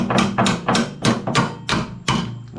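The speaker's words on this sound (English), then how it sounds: "we're gonna take a small hammer and we're gonna tap it through with a little baby hammer action" A small hammer taps a part through on a Crazy Cart XL motor support bracket in a garage, giving seven sharp metallic strikes in an even, steady rhythm, close and fairly loud with no talk.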